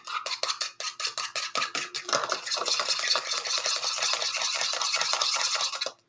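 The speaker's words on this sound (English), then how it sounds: "And scramble it up." Egg whites are scrambled in a bowl, a fast rhythmic clicking and tapping of a utensil against the bowl that grows into a dense, continuous whisking rattle before stopping abruptly.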